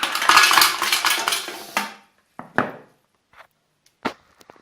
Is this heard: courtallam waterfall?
no